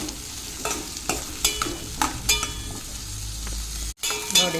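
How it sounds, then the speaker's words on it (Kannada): Something sautéing in oil in a pan, a soft, steady sizzle broken by several sharp scrapes and clinks of a spoon against the metal, with a brief dropout near the end. "ಇದು ಎಣ್ಣೆಯಲ್ಲಿ ಫ್ರೈ ಮಾಡಿದ್ದು"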